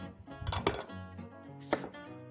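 A knife chopping vegetables on a board, a few close thuds over a couple of seconds while preparing Italian wedding soup.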